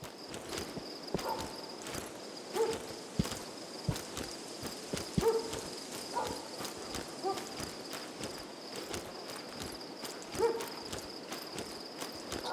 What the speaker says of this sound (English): I swear I heard someone's footsteps.